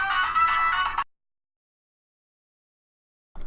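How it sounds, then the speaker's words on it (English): A mobile phone ringtone plays a bright melodic electronic tune for about a second, stops abruptly into silence, then starts again briefly at the very end. "That's my phone. My ringtone is awesome."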